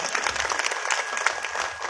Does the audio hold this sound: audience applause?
yes